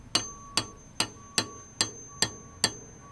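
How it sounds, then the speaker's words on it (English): A hammer taps a 6 mm spring pin into the oil gallery of a Yamaha SR/TT/XT 250 crankshaft: seven sharp metallic strikes at an even rhythm, each with a short ringing tail, close and fairly quiet. "So we're just hammering this in."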